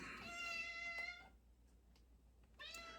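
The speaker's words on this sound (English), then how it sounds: "We've got kittens running around the studio, man." Kittens meow in the KLIF 1190 Dallas radio studio: a couple of close, clear mewing calls with a short pause between them, and no talk over them.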